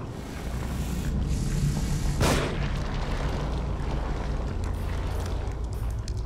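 A single gunshot in The Evil Within, one sharp blast partway through, set against a dense, loud ambient rumble.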